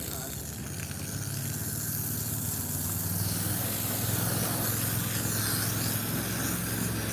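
A commercial pressure washer fitted with a downstream injector runs while rinsing, giving a constant loud broadband hiss of spray over a steady motor hum.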